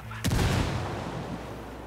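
Grenade blast in Ghost Recon Wildlands, a single loud booming burst that hits sharply and rolls off into a long rumbling tail, with no talk over it.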